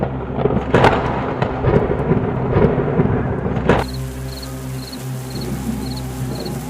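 Thunderstorm with rain in a jungle at night, sharp thunder cracks over steady rainfall for several seconds, then cutting abruptly to a quieter background with faint rhythmic high chirps.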